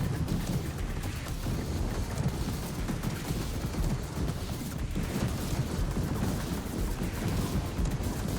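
Weapon fire in the vehicle combat game TerraTech Legion, including a railgun, forms a dense, loud, unbroken barrage of blasts and explosions throughout, with no speech.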